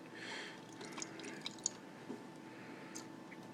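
Lighter fluid poured into a tin can, soft liquid dribbling and dripping close by, a quiet wet trickle with a few small splashy drops, no talking.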